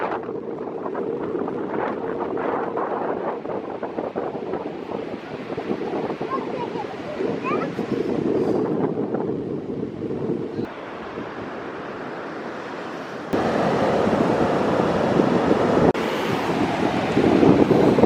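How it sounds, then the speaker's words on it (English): Ocean surf rolls onto a beach at high tide in a steady, loud wash, with heavy wind buffeting the microphone throughout and the level stepping up toward the end. "Hopefully the waves aren't big here."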